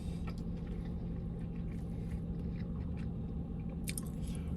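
Close, steady chewing and biting of a spicy habanero chicken burger on a sesame seed bun, soft wet crunches repeating through the whole stretch with no talking.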